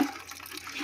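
Water sloshes and swirls as it is mixed with clay in a bucket, a soft, close liquid churning that is brief and fairly quiet, with no talking.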